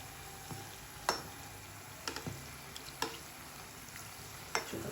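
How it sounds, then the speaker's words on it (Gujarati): Oil sizzles softly and steadily as green garlic puris fry, while a spoon scrapes and taps against the pan a few times at irregular intervals. "આ રીતે આપણે બધી તળી લઈશું"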